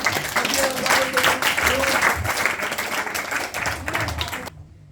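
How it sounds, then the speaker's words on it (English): Audience applause at a Bhakti Vriksha devotional gathering, a dense patter of clapping running for several seconds with voices mixed in, fading out near the end. "Please give a round of applause to Dilip Prabhu, Sir."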